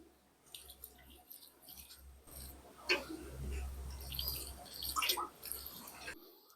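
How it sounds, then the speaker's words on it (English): Water is poured onto the roots of a freshly repotted white mulberry, giving irregular splashing and trickling with small ticks and drips, close and fairly quiet. "let's go ahead and get him some water. I don't want the roots to dry out."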